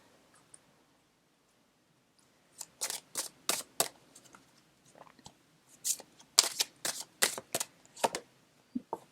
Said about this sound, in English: So I'll just get a couple of oracle cards for advice for you.